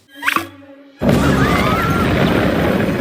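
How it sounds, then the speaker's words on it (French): A volcano erupts in the Ice Age animated film. Brief animal cries give way to a sudden loud blast, followed by a sustained rumbling roar with a swirling whistle, near and powerful. "les animaux attendent patiemment l'explosion du volcan"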